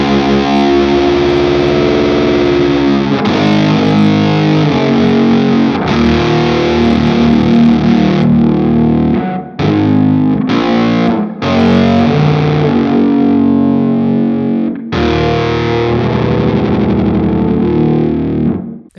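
An electric guitar through a Fjord Fuzz Odin IV pedal set to octave-down fuzz grinds out loud, thick, heavily distorted riffs with deep low end, a few brief gaps between phrases.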